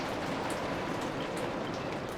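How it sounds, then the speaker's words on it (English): Steady rain patters on a surface in a continuous, even hiss with scattered drops, filling the whole stretch without a break and with no voices over it. "Sorry about the rain."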